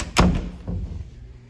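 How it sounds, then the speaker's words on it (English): A closet door in a house bedroom swung shut during a home inspection: one sharp, close thump of the door meeting its frame, then a softer follow-up knock and a quick fade. "close that door"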